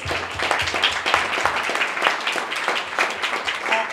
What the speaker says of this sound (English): Please let's have a round of applause for our two speakers